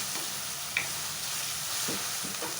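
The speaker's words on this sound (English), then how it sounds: "And let this fry really well." Quiet, steady frying hiss of minced mutton fills the pan, with a few soft scrapes and clicks of stirring near the end.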